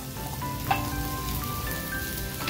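Chicken liver sizzles and crackles gently on a tawa over a low flame while being turned, a continuous close frying hiss with a brief metallic scrape.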